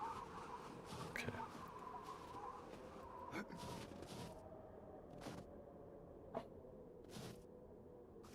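A chicken clucks intermittently in the game 7 Days to Die, faint short calls scattered over a steady low background hum.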